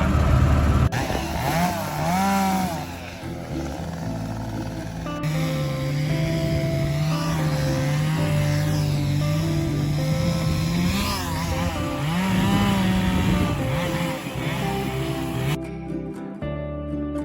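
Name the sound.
chainsaws cutting a fallen tree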